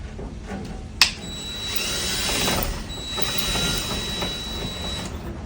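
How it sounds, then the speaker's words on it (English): A power drill whines steadily for several seconds after a sharp click, grinding into metal with a fluctuating buzz as it drills out holes in a Ford car trunk for lettering. "We're just gonna drill it out a little bit."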